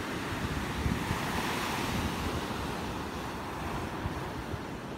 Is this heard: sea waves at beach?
yes